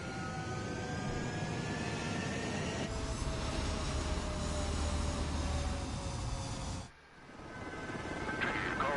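A fighter jet taking off in Ace Combat 7 roars steadily with rising whining engine tones and a deepening low rumble, then briefly cuts out and swells back in.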